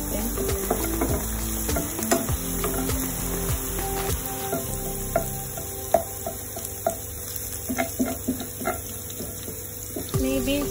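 Garlic frying in a pan toward golden brown, a steady close sizzle with scattered stirring clicks and a faint background hum running throughout.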